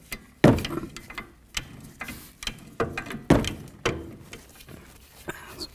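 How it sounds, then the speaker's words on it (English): Ratcheting, clicking metallic turns as large pliers unscrew the inner tie rod end on a 2008-2012 Jeep Liberty, a series of close, irregular clicks and scrapes with a few louder knocks. "I'm just going to keep turning it and turning it and turning it until this comes completely unscrewed from the outer tie rod end"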